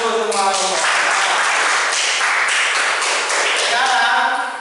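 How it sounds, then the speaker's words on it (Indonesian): Students in a classroom clap for every group, a loud, close burst of mixed hand claps lasting several seconds, with voices heard at the start. "Tepuk tangan untuk semua kelompok."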